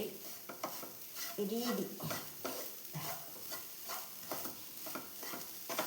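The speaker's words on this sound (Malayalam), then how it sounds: "അതുവരെയും നമുക്കിങ്ങനെ ഇളക്കി കൊടുത്തുകൊണ്ടിരിക്കണം" Grated coconut and sugar are stirred in a pan for coconut barfi, giving a soft sizzle with rhythmic scraping strokes, and a voice briefly speaks over it.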